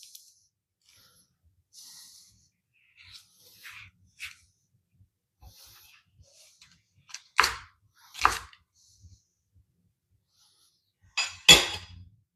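A knife rough-chopping a large garlic clove on a cutting board, sparse isolated chops with a few sharper knocks, close and clear, no speech.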